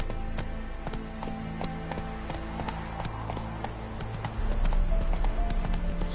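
Roach, Geralt's horse in The Witcher 3, gallops in a quick, steady clip-clop of hooves, close and clear under a low game ambience, with the rhythm continuing throughout.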